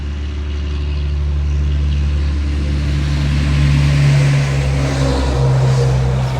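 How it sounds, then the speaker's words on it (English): A big black truck rolls past with a steady, heavy engine drone and deep low rumble that swells slightly midway, continuous and fairly loud with no one talking. "Big old black truck, look."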